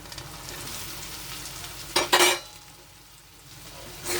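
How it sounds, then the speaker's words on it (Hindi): Soybean tikka frying in a pan with spice masala and cashew paste, a steady soft sizzle throughout with a louder burst of hissing and stirring clatter near the middle. "इसे अच्छे से मिला के 1 मिनट तक फ्राई कर लेंगे।"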